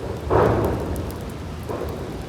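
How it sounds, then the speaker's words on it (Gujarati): Heavy monsoon rain in Surat, a dense steady roar of falling water with a deeper rumbling swell early on, heard outdoors without any voices. "ઠમ ઠમ ઠમ ઠમ ચાલુ છે વરસાદ"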